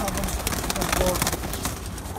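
A pair of pigeons coos on a rooftop, their low calls partly buried in a busy, noisy background with voices around.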